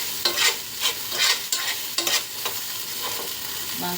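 Okra (bendakaya) frying in a pan and being stirred, with a steady sizzle and repeated scraping strokes of the spoon at an irregular rhythm, close and fairly loud.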